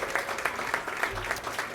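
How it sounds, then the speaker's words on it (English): Light, soft audience applause at a public early-learning grants announcement with young children present. The clapping is faint and spread out under a steady murmur of room noise. "How about a round of applause for them?"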